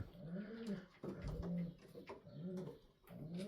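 Several white homing pigeons coo softly and repeatedly inside a new loft, their low rolling calls overlapping close by with no other sounds.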